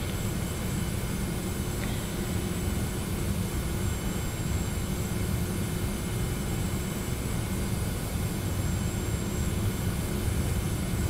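Boeing 717 jet engines on the takeoff roll in the FSX flight simulator, a steady broadband roar with a constant whine, continuous and even, no talk.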